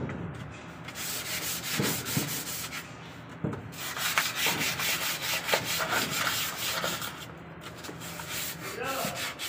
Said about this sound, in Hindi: पेपर से घिस रहा है इसका